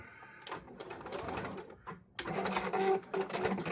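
A sewing machine stitching a wrestling mask at high speed, running in bursts with a brief pause near the middle, then a louder steady whir of rapid stitching.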